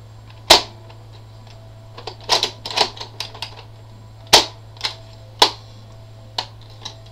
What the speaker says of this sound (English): basically you can prime it manually and shoot it